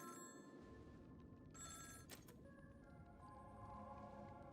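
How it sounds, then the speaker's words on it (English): A phone call rings in the video game Honkai: Star Rail: a faint electronic ringing tone pulses in a couple of short bursts over a low, steady ambient game background, with no voices. "Oh, with the phone call, yes."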